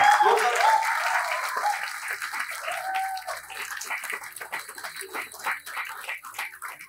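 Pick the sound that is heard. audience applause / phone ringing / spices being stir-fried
audience applause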